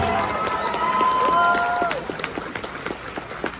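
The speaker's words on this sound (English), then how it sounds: "Can we get another round of applause for our friends up here?" A crowd at an anime convention panel for the Dandadan dub cast claps and cheers, with whoops and voices over the applause before it thins into sparser clapping.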